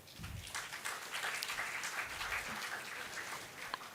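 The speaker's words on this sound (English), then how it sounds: "So a huge round of applause" Steady applause from a crowd at a university B.Tech induction program, moderately loud and sustained throughout, with a brief low murmur near the start.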